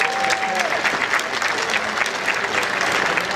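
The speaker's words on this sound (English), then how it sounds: "Give yourselves a big round of applause." An audience at a robotics competition opening ceremony claps steadily, dense continuous applause from a large crowd filling the room for a few seconds, with a faint tone at the start.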